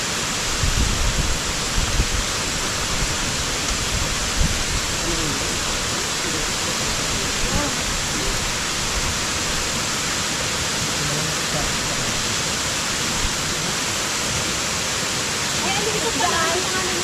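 Steady roar of Baklao Falls pouring and crashing, a broad constant wash of falling water close by, with faint voices and brief chatter now and then underneath.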